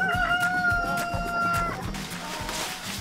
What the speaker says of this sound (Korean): 볕이 좋은 날이면 어김없이 바깥 외출을 하는 닭들.